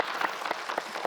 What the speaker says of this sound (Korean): 감사의 박수 한번 쳐주시면 감사하겠습니다